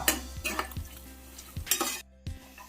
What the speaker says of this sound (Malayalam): അതിലേക്ക് നമ്മുടെ നാളികേരക്കൊത്ത് വറുക്കാൻ വേണ്ടി ഇട്ടു. ഇത് വറക്കണം